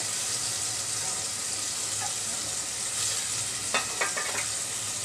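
Soaked, washed masoor lentils going into hot oil in a pan, a dense continuous sizzle heard close up, with a few brief clatters near the end.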